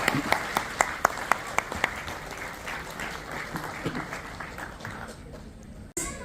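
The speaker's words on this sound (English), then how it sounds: "Give a big round of applause for them, everyone." Applause from the audience at a playschool annual day function, beginning with a few loud separate claps that merge into steady clapping, which fades toward the end before a sharp final burst.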